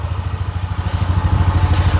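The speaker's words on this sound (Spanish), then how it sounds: "Acá pueden escuchar lo que es el motor." A motorcycle engine idling up close, a loud, steady low chugging with a rapid even pulse and a little mechanical clatter.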